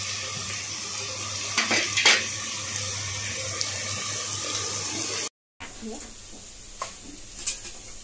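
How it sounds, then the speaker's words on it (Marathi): Onions frying in a pan for biryani, browning until deep golden, give a steady hiss and sizzle with a few louder scrapes of stirring, a short break partway through, then more sizzling. "त्यामुळे जरा कांदा चांगला तांबूस होऊ दे."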